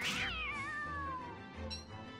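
A catcoon in the video game Don't Starve Together lets out a single drawn-out, falling meow, clear and close, followed by a brief second chirp, with no talking.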